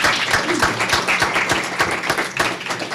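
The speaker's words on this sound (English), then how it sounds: "let's give her a round of applause" A graduation ceremony audience claps in a brief, steady burst of close, crisp hand claps with a fairly even rhythm for about three seconds.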